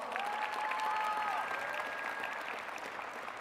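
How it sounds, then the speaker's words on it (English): A high school class of 2022 bursts into sustained applause at its graduation ceremony, a dense wash of clapping from a large crowd that holds steady and eases slightly toward the end, with a few faint whistles in the mix. "So, class of 2022, you did it. So give yourselves a round of applause."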